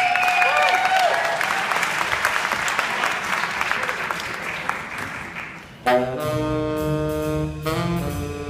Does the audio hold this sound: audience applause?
yes